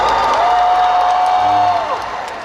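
Outdoor audience at a film open-talk stage event applauds and cheers for actor Lee Byung-hun, a dense steady wash of clapping and crowd noise with a sustained tone running through it that eases off near the end.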